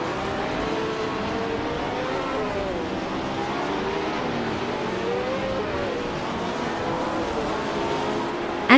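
A 1967 Ferrari 312 race car in a racing video game, its engine droning steadily with a continuous harmonic whine that shifts pitch as it revs, loud and close throughout with no talk.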